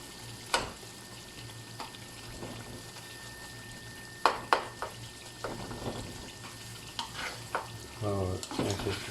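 Tomatoes in a mutton Shinwari karahi are mashed and mixed with a spatula, giving sharp scraping knocks and clatters over a quiet simmering sizzle, with a busier run of stirring near the end.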